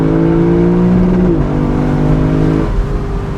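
Lexus LC500 engine heard from inside the cabin holding a steady drone, then stepping up sharply in pitch twice as it drops through multiple gears on a downshift, loud and continuous, no talking.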